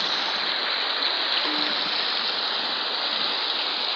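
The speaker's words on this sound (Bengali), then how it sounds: "বৃষ্টি প্রবল বাড়তে চলছে, এখন দেখা যাচ্ছে এদিক পর্যন্ত পানি চলে আসছে।" Heavy rain and rising floodwater rush steadily, a dense, constant wash of water noise close by that stays level with no pauses or voices.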